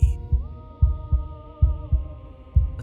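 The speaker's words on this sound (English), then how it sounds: "a wooden and fleshy heart beating with an unbroken rhythm" A wooden and fleshy heart beats in the video game Slay the Princess, a steady series of deep, close thumps in an unbroken rhythm over a low sustained musical drone.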